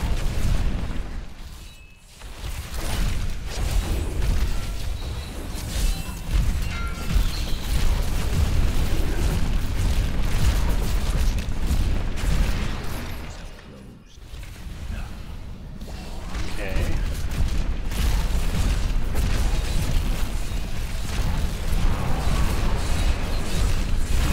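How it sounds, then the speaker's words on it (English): Heavy, continuous booms and bursts from a poison area-of-effect Necromancer build in the game Diablo III, dense rumbling explosions layered throughout with brief dips, under occasional talk. "No, explosions."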